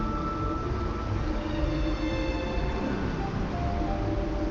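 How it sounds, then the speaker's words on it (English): An underground cable car train in the video game Wuthering Waves rumbles steadily with a dense rolling roar and faint metallic squeals and tones, sustained and loud throughout with no voices. "So I love this train echo."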